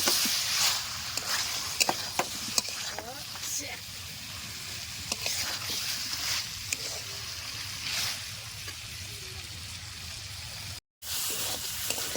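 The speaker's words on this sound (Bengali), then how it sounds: "মাংসটা ধরে আস্তে আস্তে জাল দিয়ে একটু সময় নিয়ে সুন্দর করে কষাই নিছি" Spiced meat braising in oil in a pan, cooked slowly over low heat in a village kitchen, gives a steady close sizzle and bubbling with scattered stirring scrapes and clinks throughout, briefly cutting out near the end.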